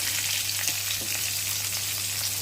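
Small onions fry in hot oil for a chickpea curry, giving a steady, even sizzle close to the pan with faint stirring, alone without talk.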